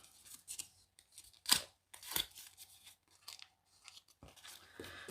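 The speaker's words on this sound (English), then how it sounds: "I'm just going to curl this with my bone folder." A bone folder curls a sheet of cardstock paper for a butterfly birthday card, giving a few short dry scraping and rustling strokes close by, with quiet pauses in between.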